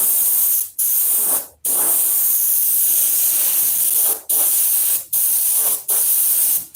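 A trigger air gun fed by a compressor at about 60 pounds of pressure fires loud, close bursts of hissing air, six or so blasts separated by brief pauses.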